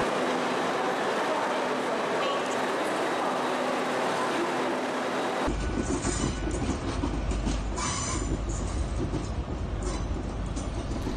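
An Intercity 125 HST diesel high-speed train departs Paddington station on its final run, its engines roaring loudly and steadily while the rumble deepens partway through and the wheels clatter close by.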